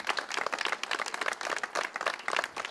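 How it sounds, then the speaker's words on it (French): Audience applause at a press conference launching Donnacona 100, a steady patter of many hands clapping at moderate loudness for a few seconds, with no voices over it. "Une bonne main d'applaudissement à cette belle gang-là."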